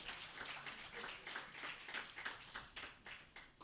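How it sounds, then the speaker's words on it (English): A seated audience applauds at a literary festival book chat, with steady, dense clapping that stays fairly faint and distant, rising and falling gently with no voices over it. "please, let's give a warm round of applause to welcome"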